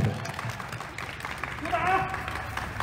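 Applause from an event audience for a film director's opening speech at a drama's production launch ceremony, steady dense clapping spread through the room as a host's voice speaks over it.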